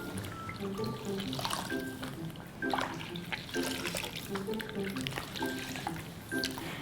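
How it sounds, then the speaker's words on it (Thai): Clean water running and splashing as a newborn baby is rinsed during a bath, a steady trickle with light drips close by, while a voice talks quietly underneath. "แล้วล้างออกด้วยน้ำสะอาด"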